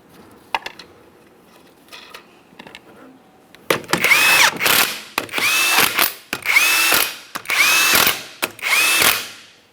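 An impact power tool runs on the 19mm lug nuts of a 2007-2017 Jeep Patriot wheel, five loud whirring bursts each ending in a rattling hammer, after a quieter stretch of clinks.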